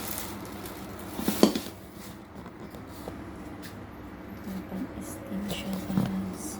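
Metal pressure cooker accessories, a ladle and a steamer rack, are handled nearby, giving scattered clinks and clatters, with one sharper knock and low speech in the background.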